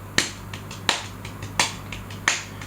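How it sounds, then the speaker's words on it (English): Close, dry taps mark out 16th notes at a slow tempo, with a crisp accent every fourth tap and softer taps between, over a low steady hum. "let's pick a slow tempo and just tap out 16th notes."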